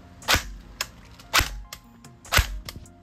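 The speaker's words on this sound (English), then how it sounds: "As you can hear that click after I shoot it, I'm resetting the trigger manually" An airsoft gun fires three sharp, snappy shots about a second apart, each followed by a softer mechanical click as the trigger is reset by hand, close and alone without talk.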